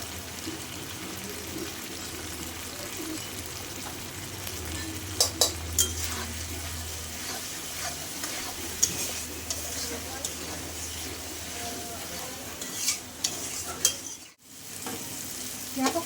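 Food sautéing with salt in a pan gives a quiet, steady sizzle broken by scraping stirs and light utensil clicks, with a brief dip near the end.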